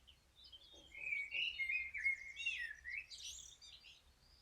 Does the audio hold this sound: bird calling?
yes